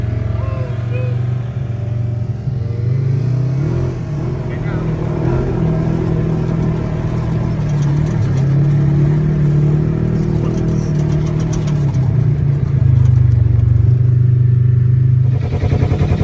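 Polaris RZR side-by-side off-road vehicles riding on Florida's west coast, with a loud steady engine drone and rumble throughout, rising slightly near the end, while people talk over it.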